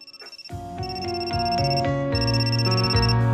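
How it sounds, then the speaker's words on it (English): A phone rings in the Amnesia Memories video game, a steady electronic ringtone that starts after a soft pulsing lead-in and repeats its bright melodic tones loudly, with no voices. "Oh, Ikkiyu's calling us."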